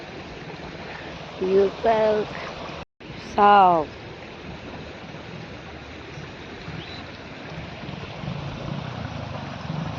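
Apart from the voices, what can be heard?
clear river stream flowing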